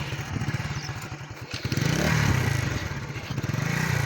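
Learner motorcycle engine chugging at low revs, then rising into a steadier, louder drone as the clutch is slowly released and the bike pulls away, close by with rattling mechanical clatter.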